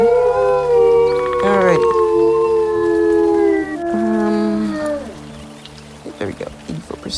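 A wolf in the WolfQuest video game lets out a long, loud sustained howl with pitch bends and overlapping wavering voices, fading out before someone speaks briefly.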